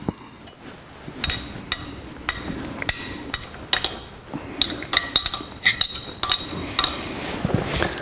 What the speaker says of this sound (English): And then back the adjuster nut off.